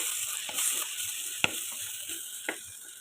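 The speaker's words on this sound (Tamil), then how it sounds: "இப்போ இதை நல்லா கிளறி கொடுத்துக்கலாம்." Garlic and brinjal curry being stirred in hot, separated oil, giving a steady close sizzle with a few sharp knocks of the spoon against the pan and no talking.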